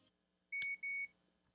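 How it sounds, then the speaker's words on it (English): Two short electronic beeps in quick succession, clear and high-pitched against a quiet background, from Bluetooth sleep mask headphones signalling maximum volume. "There we had the beep for max volume."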